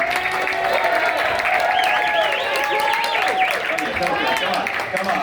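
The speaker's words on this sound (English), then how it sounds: "can we give a round of applause to the guy who made all this happen this weekend?" A round of applause at closing ceremonies for the weekend's organizer, a loud sustained crowd clapping with some cheering and whistles rising over it, voices mixed throughout.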